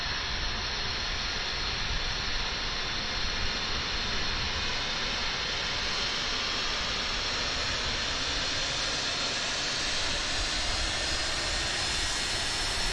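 A JT8D jet engine spools up during start in Microsoft Flight Simulator, a steady loud roar with a rising high whine that holds evenly throughout with no talking.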